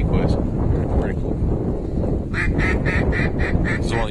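Ducks on a wind-buffeted hunting marsh give a fast run of repeated, fairly close quacks near the end, coming after a stretch of heavy wind noise.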